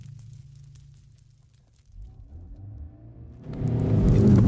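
A Ford Focus RS, Honda Civic Type R and VW Golf R line up for a drag race. Low idling rumble builds into a loud, swelling engine roar as the cars launch and accelerate.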